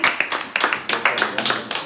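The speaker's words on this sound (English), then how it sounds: "Let's clap for you." A small group clapping for a tailoring graduate at a beneficiary meeting in Waterloo, Sierra Leone: a brisk, fairly even run of close handclaps, steady and lively.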